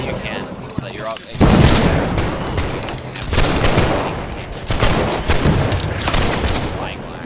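Cannon fire in the fencing video game Hellish Quart, booming bursts and rapid crackling volleys repeating across the scene, with people talking over the noise.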